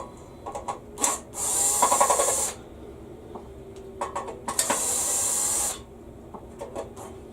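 A Black & Decker power drill runs in two bursts of about a second each, a loud high whine set apart by quieter clicks and handling noise in a workshop.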